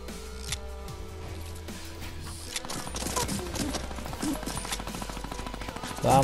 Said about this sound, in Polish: O, ktoś strzela.